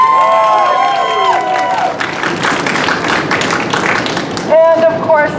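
Rally crowd for a domestic workers' rights bill in Illinois bursts into loud, sustained applause and cheering, dense clapping with whoops rising throughout, a few raised voices shouting over it near the end.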